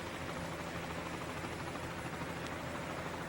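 A helicopter hovers above the Tour de France peloton on a valley road, its steady broadband rotor and engine roar filling the scene evenly throughout.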